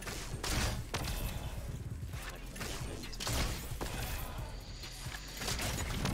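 Fortnite gunfire crackles in rapid bursts and scattered shots from the game, with a few heavier thuds among them, continuing through the whole stretch with short gaps.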